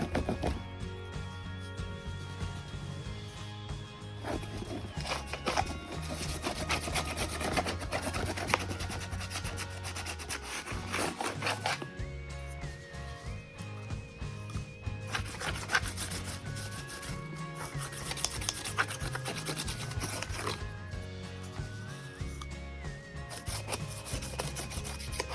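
Excess material is scraped out of a junk journal, producing a continuous close rubbing and rasping with rhythmic strokes, heard without any talking.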